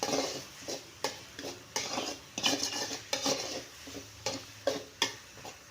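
Cabbage and egg stir-fry (poriyal) being stirred in a pan, with repeated scraping and clinking strokes at roughly one per second over a faint background sizzle, close and alone without talk.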